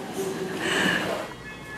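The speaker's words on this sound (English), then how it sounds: "it's so pretty. The bell sound." A bright, melodic door chime rings out in a short run of tones over a soft background hiss, moderately loud and close.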